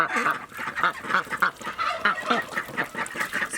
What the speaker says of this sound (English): So we had these 3 ducks.